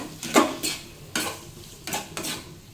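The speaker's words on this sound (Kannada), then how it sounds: "ಮಿಕ್ಸ್ ಮಾಡಿಕೊಂಡು ಚೆನ್ನಾಗಿ ಮಿಕ್ಸ್ ಮಾಡ್ಕೋಬೇಕು" Mashed potato filling for pani puri being stirred in a bowl, a few separate scraping, clinking strokes of a spoon against the dish, close and moderately loud with short pauses between them, no voices.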